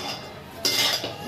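A utensil stirs liver curry with turmeric in a metal pot, giving a soft scrape and then a brighter clattering swirl midway, close and fairly quiet with no talk.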